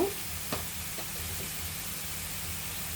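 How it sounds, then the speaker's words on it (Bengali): Spring onion stalks frying over high heat with shrimp, giving a steady, even sizzle throughout, with a brief clatter of stirring early on and a few soft utensil knocks. "পেঁয়াজ কলিগুলো খুবই নরম থাকে, এই জন্য খুব হাই আছে ভেজে নিতে হবে"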